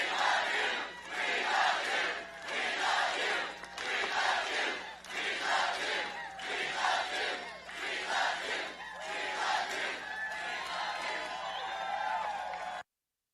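A large political rally crowd breaks into a spontaneous rhythmic chant, loud and close, with repeated surging phrases separated by short breaths, sustained for over ten seconds before cutting off abruptly.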